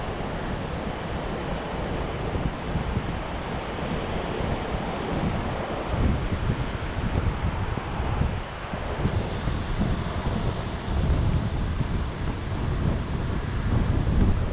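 Surf rolls onto a long, clean beach in Goa, a continuous wash of waves mixed with gusting wind buffeting close by.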